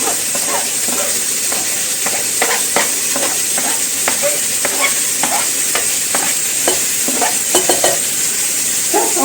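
Onion and garlic sizzle steadily in a hot pan for a bolognese sauce, with a constant frying hiss broken by irregular scraping clicks of stirring, close and fairly loud, with no voices.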